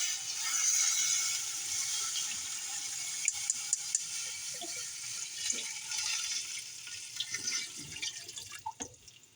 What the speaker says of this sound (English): Now you're gonna add 12 cups of water.